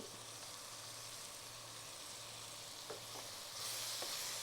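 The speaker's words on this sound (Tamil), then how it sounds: "இப்போ நம்ம தீயை குறைச்சி வச்சுட்டு நான் எல்லாத்தையும் ஒன்று ஒன்றா அதில் போட்டுருவேன். தக்காளி, புதினா, கொத்தமல்லி," Tomato, mint and coriander fry over low heat in a pan, a steady, soft sizzle with a few stirring scrapes, heard close and alone, swelling slightly toward the end.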